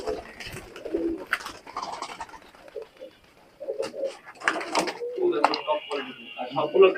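Pakistani high flyer pigeons in a loft give soft, repeated coos at close range, scattered through the clip, while someone talks over them.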